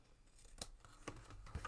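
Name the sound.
scissors cutting craft decorations for a favor box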